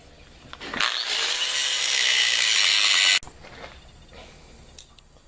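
Overlong steel bolts on a heavy-duty mobile bench vise stand are ground down with a power tool, a loud steady high grinding whine lasting about two seconds before cutting off abruptly, with faint workshop clatter after.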